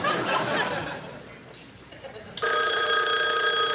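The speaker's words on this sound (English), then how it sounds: "The phone rang again." A telephone bell in a 1976 Saturday Night Live sketch starts ringing loudly and continuously partway through, after audience laughter and chatter in the first seconds.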